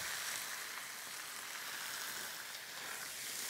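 Bacon fries under a cast iron skillet pressing it flat, giving a steady, dense sizzle and crackle with no other sound on top.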